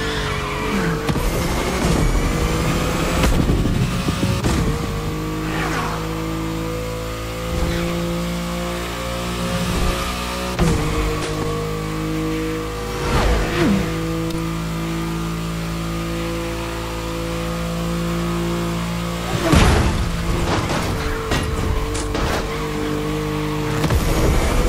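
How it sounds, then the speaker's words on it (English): A Mitsubishi Evo X drifts in the racing game The Crew Motorfest, its engine revving and droning loudly while tires squeal and skid repeatedly, with sharp bursts of acceleration breaking through the sustained engine tone. "Time for drifting."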